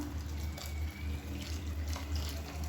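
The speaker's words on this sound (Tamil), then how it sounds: "இந்த ஸ்டேஜில் நம்ம தண்ணி சேர்த்துக்கலாம்." Water is poured into a paneer kurma masala cooking in a pressure cooker, a steady running splash and gurgle of liquid with a low hum underneath, close and continuous.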